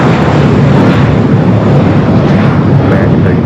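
A jet airliner roars down LAX runway 25 right on its takeoff roll, a loud, steady broadband engine rumble that holds without a break.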